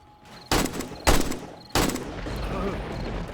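Three loud, sharp gunshots in the video game 7 Days to Die (Alpha 18), fired during a night fight against zombies, each followed by a ringing tail, the last one echoing on.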